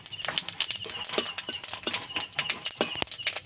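Whole cumin and spices, including bay leaf and a dried chilli, sizzle in hot mustard oil with a close, steady crackle and spitting pops that run throughout.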